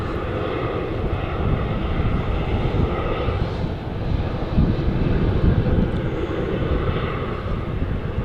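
An Etihad airliner in special F1 livery on the runway at Manchester Airport, its engines producing a steady, heavy roar that swells and eases slightly while the aircraft rolls, with no talking.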